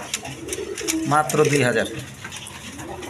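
Pigeons coo close by in a short burst of soft, throaty calls, heard under someone talking.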